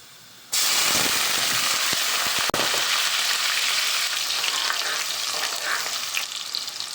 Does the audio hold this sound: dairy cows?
no